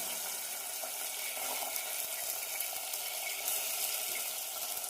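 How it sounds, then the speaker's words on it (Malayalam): Chopped ginger pieces sizzling in hot oil in a pan, a soft, steady hiss and crackle that stays faint and even throughout. "ഇനി ഇതിലേക്ക് അരിഞ്ഞു വെച്ച ഇഞ്ചി കഷ്ണങ്ങൾ ആഡ് ചെയ്യാം."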